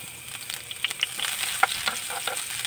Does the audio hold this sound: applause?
no